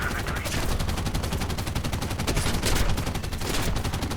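Aircraft machine gun of an SM.79 bis T/M bomber in War Thunder firing in long, continuous bursts, loud and close, a rapid rattling stream of shots with no talk over it.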